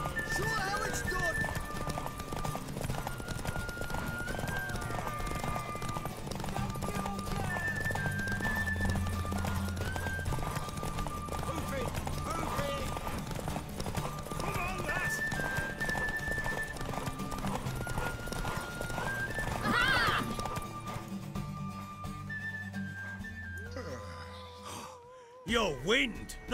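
Rapid hoof clip-clop of a galloping horse in The Witcher 3, with a whinny and neighs over game music while voices talk throughout.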